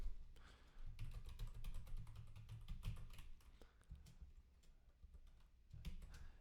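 Steady typing on a computer keyboard while entering a Windows login, a fast continuous patter of close key clicks with brief pauses, quiet and unaccompanied by speech.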